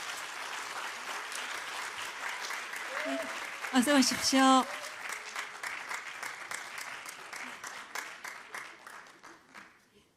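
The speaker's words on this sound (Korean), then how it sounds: "여러분 큰 박수로 맞아 주십시오." Steady applause from an audience under a host speaking briefly into a microphone, welcoming four guests to the stage; the clapping thins into scattered claps toward the end.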